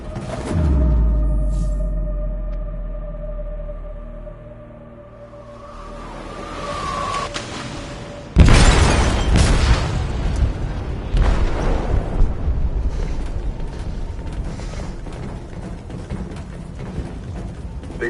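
A huge explosion tears through a ship's hold in a video game, a sudden deep boom halfway through followed by long roaring rumble and debris, after tense music and low ambience; no talk.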